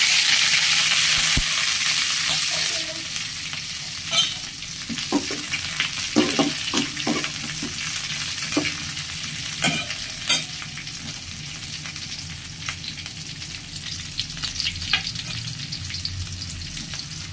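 Green chillies frying in hot oil in a pan for brinjal bharta, a steady loud sizzle with repeated scraping stir strokes and clinks, dominating the clip without any talk.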